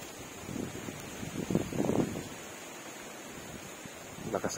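Steady gusty wind rumbling across the microphone at a riverside campsite, with buffeting bursts rising and falling and a faint voice briefly underneath.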